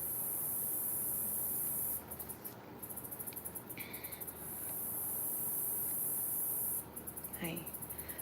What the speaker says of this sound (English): The cicada.